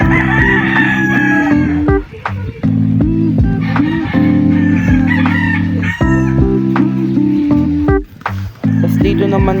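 Roosters crow loudly and repeatedly, long drawn-out calls overlapping one another, with chickens clucking in between and voices faintly mixed in, on a chicken farm.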